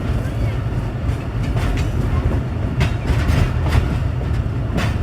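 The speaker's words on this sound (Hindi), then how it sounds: "ट्रेन आहिस्ता आहिस्ता मूव कर रही है" The Bulleh Shah Passenger train rolls slowly on the line from Lahore toward Kasur, with a steady, close rumble and faint clickety-clack of wheels over rail joints.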